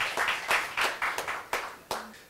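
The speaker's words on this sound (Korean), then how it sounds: "큰 박수로 맞아주시고" A small seminar audience at Korea University gives scattered applause to welcome a speaker on biological defense: about eight distinct, separate hand claps close by, loose and irregular rather than a full ovation, with no voices over them.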